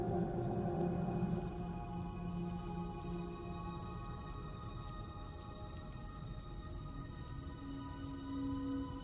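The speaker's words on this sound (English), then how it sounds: "Those raindrops are falling on my head." Rain falls steadily in the video game Death Stranding as a soft, constant patter of drops with a low background hum and faint tonal tones, quiet and unbroken throughout.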